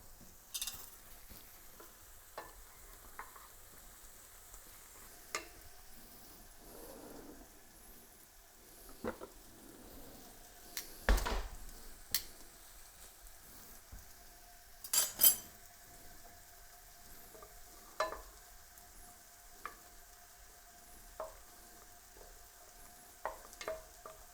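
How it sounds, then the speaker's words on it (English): A stick of butter melting in a pot for New England clam chowder, giving a faint soft sizzle with occasional clinks and stirring knocks from utensils against the pot. "we'll add the 1 stick of butter, and bring that up so it starts to melt"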